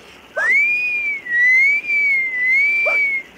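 A person whistles a long, wavering, signal-like tone, loud and close, sustained for about three seconds with short breaths at the start and end.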